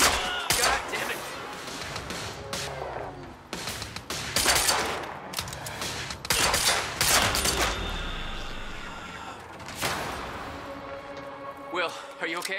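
Bursts of gunfire and rapid automatic shots fill the shooting scene in the action game Quantum Break, loud and repeated, mixed with shouting voices and dramatic game sound.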